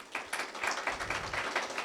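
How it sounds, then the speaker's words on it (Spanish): A church congregation applauds during a sermon, a faint, distant wash of many hands clapping steadily with no voices on top. "dale un aplauso a Jesús"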